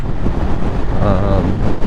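Wind buffets a microphone outdoors, a loud continuous low rumble and flutter filling the whole moment without any other clear sound.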